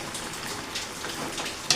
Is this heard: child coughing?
no